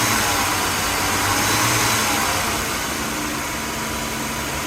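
A car engine runs loud and close with a steady mechanical roar that eases slightly in the final seconds, with no one talking.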